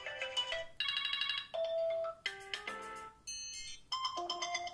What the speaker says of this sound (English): This is all new ringtones.